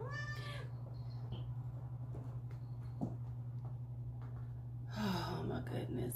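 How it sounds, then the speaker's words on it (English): A cat meows loudly at the very start, a drawn-out cry close to the microphone. Quiet breathy noises follow, then a second burst of meowing near the end, over a steady low room hum. "I can't even do an intro without the cat."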